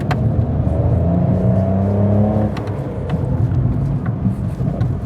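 Small 2024 Fiat Panda Hybrid engine pulling under acceleration, a moderate whirring drone climbing in pitch then settling, heard from inside the cabin with road noise underneath.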